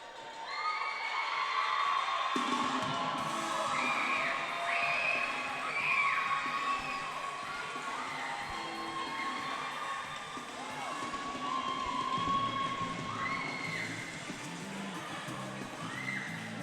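Basketball fans at a Lambton Lions v Humber Hawks college game cheer, whoop and shout loudly in the stands, the roar rising suddenly after a quiet start and staying high with scattered high-pitched yells throughout.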